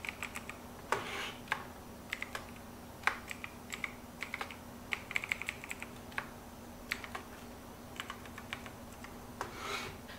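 A password is typed on a computer keyboard as a close, irregular run of light clicks and key taps over about ten seconds, with short pauses between bursts and no speech.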